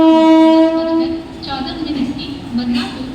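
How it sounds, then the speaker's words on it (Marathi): Mumbai suburban fast local train arriving at a platform, starting with a long loud horn blast, then rumbling and rattling wagons as it rolls in, with station voices and announcements around it. "बदलापूरला जाणारी जलद लोकल थोड्याच वेळा प्लॅटफॉर्म क्रमांक 3 पर येत आहे"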